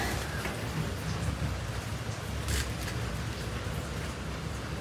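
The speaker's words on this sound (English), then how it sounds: "Yeah, it's just raining here." Steady rain pours down in a dense, continuous hiss with low rumbling underneath, unbroken throughout and fairly close.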